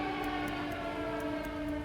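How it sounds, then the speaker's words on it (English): A tornado warning siren sounds across Jasper County and Joplin, a steady, sustained wail at moderate distance with no other sounds over it. "a tornado alert siren rings out for Jasper County and Joplin"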